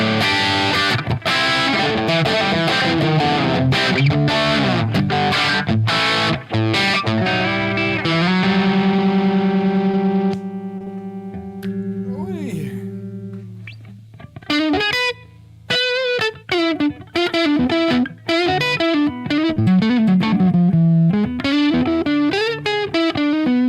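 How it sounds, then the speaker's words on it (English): An electric guitar played through distortion effects and a PROTO2 amp with JJ 6L6 tubes gives a thick Gibson-style tone, with chopped chords, a long sustained note, a slide, then more chugging riffs, loud and alone. "That's a good Gibson sound, isn't it?"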